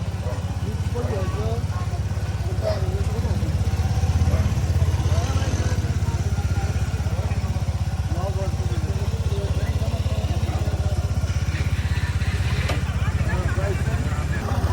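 A motorcycle on a trip toward Mustang, Nepal, runs at a steady, fairly loud mid-low engine drone while being brought out and ridden off, with people talking over it throughout.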